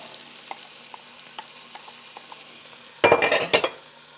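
Green peppers and celery drop into a hot pan for red beans and rice: a faint low sizzle with soft stirring taps, then a loud burst of frying and scraping near the end.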